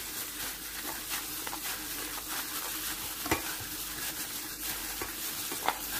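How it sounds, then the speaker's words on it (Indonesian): Laksan dough for the Palembang dish is stirred in a pan after a little water is added, making a soft wet hiss with irregular scrapes and a couple of sharper knocks of the utensil. "Ini kita tambahi air sedikit lagi ya teman-teman, baru kita aduk lagi ya teman-teman."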